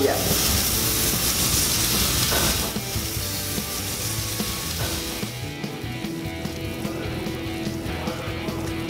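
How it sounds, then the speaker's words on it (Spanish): T-bone steak searing in butter and oil in a pan, a broad continuous sizzle that is loud at first and then settles into a quieter crackling hiss. "ahora sí, vamos a colocar nuestra pieza de tibón sellar"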